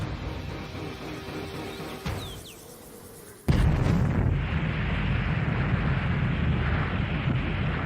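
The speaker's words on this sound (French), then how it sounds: "les forces armées américaines veulent tester le prototype d'une nouvelle bombe" Trinity atomic bomb test explosion in the New Mexico desert near Los Alamos: a sudden deep blast hits after a quieter stretch and gives way to a sustained, loud rumbling roar, with no talking.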